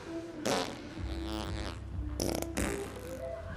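Comedic film fart sound effect, a sustained blubbery burst with a couple of sharper sputters, loud and close with no talk over it.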